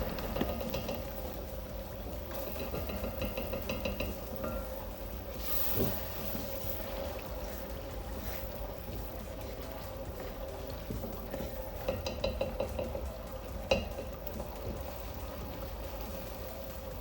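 Tomato mix for Nigerian jollof simmers in a pot with a soft, steady bubbling sizzle. A few faint knocks come from stirring. It stays quiet throughout with no talking.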